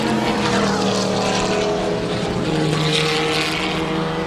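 Vintage race cars roar past at a festival of speed, a dense, loud, continuous engine drone with shifting pitches as two evenly matched cars run close together.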